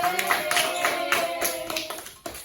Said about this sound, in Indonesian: Tepuk tangan semuanya banyak.